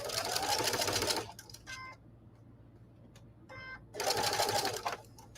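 A sewing machine stitches quilt blocks for snowball-style snowman quilts in two loud bursts of rapid, steady needle chatter, with a quieter stretch and a few brief mechanical clicks in between.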